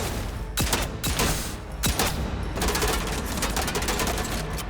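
Gunfire aimed at a creature in the video game Atomfall, a string of loud sharp shots, some spaced apart and then a quick rapid burst, close and with no talk over it.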